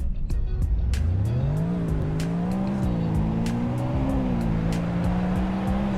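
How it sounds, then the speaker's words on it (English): A car in a Roblox driving game accelerates hard from a standstill during a speed test, its engine note climbing steadily through the gears with short tyre squeals, loud and continuous. "I love how this car accelerates so fast."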